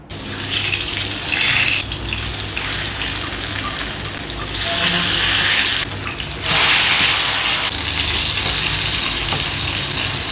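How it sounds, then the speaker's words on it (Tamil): Chicken for chicken mandi shallow-frying in hot oil, a steady loud sizzle and crackle running throughout with brief surges as pieces settle in the pan. "இப்போ சிக்கனை பொரிச்சு எடுத்துடலாம்."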